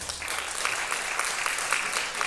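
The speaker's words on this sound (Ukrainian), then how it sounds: "Це також ваші оплески і фінським волонтерам" An audience at a Lviv competition performance applauds, a brief steady wash of clapping, moderately loud and even throughout, with no talking over it.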